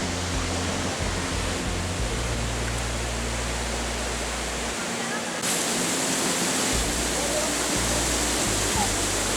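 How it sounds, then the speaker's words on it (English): The Lodh Falls, a tiered waterfall with several drops close together, roars as a steady, dense rush of falling water. Low rumbling wind or handling noise sits beneath the water throughout. "The Lodh Falls is a tiered waterfall with multiple distinct drops in a relatively close succession."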